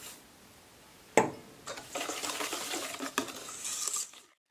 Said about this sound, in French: On mélange et on y intègre la coco râpée.